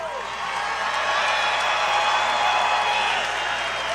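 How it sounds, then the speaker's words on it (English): A large political rally crowd in Cleveland, Ohio cheers and applauds in a broad, steady wash of clapping and shouting that swells slightly and holds at a fairly loud level throughout. "We have a big crowd today"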